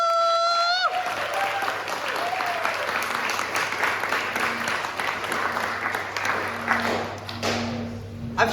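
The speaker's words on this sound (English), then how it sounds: "So I think this year's council deserves a round of applause for doing that all for you." Audience at a society gathering breaking into a sustained round of applause, dense crowd clapping that fills the room after a brief tone, with a faint hum beneath.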